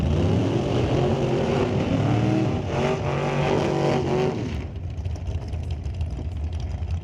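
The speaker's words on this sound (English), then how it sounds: "First pair top comp pulling into the burnout box right now." Top comp drag race cars pull into the burnout box at Mission Raceway Park, their engines rumbling loud and near, then easing to a lower, rougher idle partway through.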